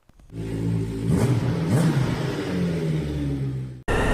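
A motorcycle engine drones steadily on a ride, a loud, continuous mid-pitched rumble with slight rises and falls in revs, cutting out abruptly just before the end.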